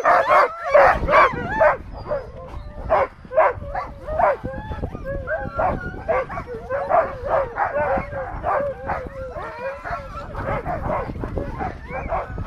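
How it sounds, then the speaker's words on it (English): Sled huskies bark, yip and whimper in a dense, excited chorus before a sledding run, the yelps coming in rapid overlapping bursts close by throughout. "So this is after lunch and the dogs are all getting ready to go."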